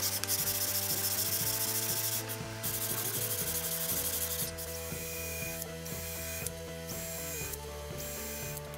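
Wooden keepsake box and its lid rubbed back and forth flat on sandpaper, a steady close scratchy rasp with brief pauses between strokes.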